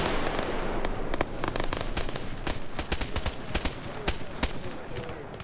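Video-game gunfire from a vehicle-mounted heavy machine gun: dense, irregular bursts of sharp cracks and thuds, fairly loud, with a few louder isolated shots toward the end.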